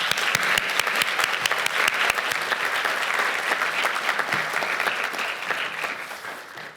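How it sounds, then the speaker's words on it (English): A large audience at the Young Muslim Writers Awards 2019 bursts into a loud, sustained round of applause for young story writers, dense clapping holding strong for several seconds before gradually tapering. "So guys, can we just give a big round of applause for every single child who dared"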